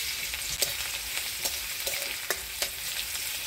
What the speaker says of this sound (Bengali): ফোড়নে দিয়ে দিচ্ছি থেতো করা রসুন